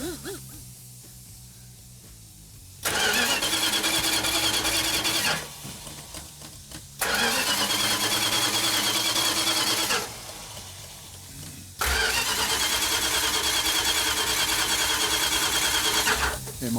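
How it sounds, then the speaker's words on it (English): A 340 Duster, an A-body car, cranks in cold weather with no fuel, so it never fires. Three long bursts of loud, rhythmic starter churning are separated by short quiet pauses. "I was just gonna crank it and let it build the"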